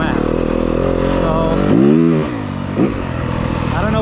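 A 2023 Yamaha 250FX dirt bike, nearly stock, with its engine revving up sharply from a steady idle, then dropping and blipping again, loud and close.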